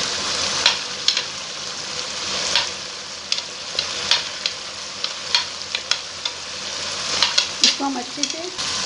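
Sliced onions go into hot oil with already-roasted spices and sizzle steadily, a constant frying hiss broken by frequent clicks and taps of a stirring spoon against the pan, with a brief voice near the end.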